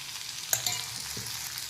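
Ivy gourd (tindora) is stirred while it fries in a pan. A soft sizzle runs underneath a couple of brief spoon scrapes, and the whole thing is quiet and short.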